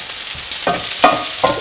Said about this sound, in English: The onions are getting roasted and they are looking beautiful.